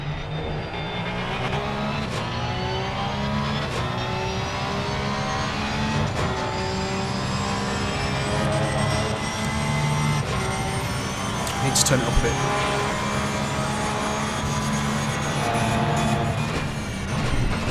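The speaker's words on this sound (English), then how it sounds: "for those that love the sound of the Porsche" A Porsche race car engine in a sim racing game at Silverstone, a sustained droning whine holding steady pitch with gear-shift breaks throughout, under a commentator's talk.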